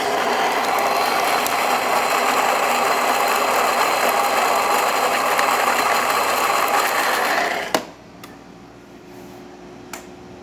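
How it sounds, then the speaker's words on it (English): A Saeco Barista coffee grinder, just repaired, grinds beans with a loud, steady whirring drone for about eight seconds, then cuts off abruptly, leaving a couple of faint clicks in near silence. "Saeco Barista grinding once again."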